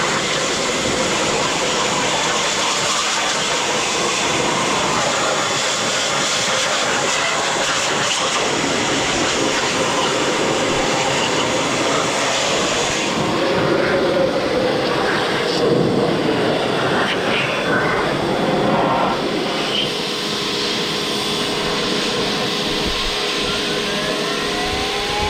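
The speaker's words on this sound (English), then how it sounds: "We're just going to let it degrease and then pressure wash it just like we did the transmission." A pressure washer blasts a degreased Vitara engine and transmission, a steady loud hiss of spray running continuously throughout with slight shifts in tone as the jet moves.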